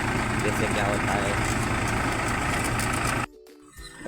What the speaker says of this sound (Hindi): और ये हमारा ट्रैक्टर है और हम जा रहे हैं गेहूँ बोने के लिए।